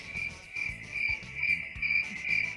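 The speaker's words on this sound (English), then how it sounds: "Crickets are there." Crickets chirp steadily in regular pulsing bursts, a continuous insect trill at moderate level with faint low rumbling underneath and no talk.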